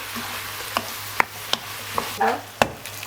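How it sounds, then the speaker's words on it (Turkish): Tomato paste with salt, black pepper and chili flakes sautés in a pan, a soft sizzle under several sharp spoon clinks and scrapes against the pot, close and alone. "Bir yemek kaşığı domates salçası, tuz, karabiber, birazcık da pul biber ilave edip şöyle bir 5 dakika daha kavuracağım."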